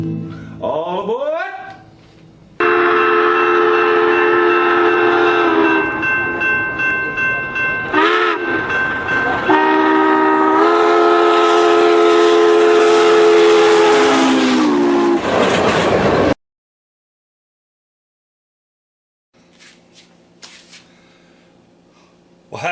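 A train sound effect opens with rising horn blasts, then a loud rumbling run of clattering wheels and sustained whistle-like horn tones. It cuts abruptly to silence, followed by a few faint, scattered noises near the end.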